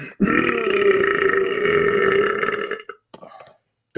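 A long, loud, close-up belch drawn out for nearly three seconds with a croaking, tonal rasp, followed by a short quieter second burp after a brief pause.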